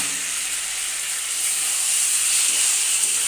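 Fish curry of small fish with brinjal, ridge gourd and potato sizzling steadily in a pan as it is stir-fried down, a continuous bright hissing spatter with no talk.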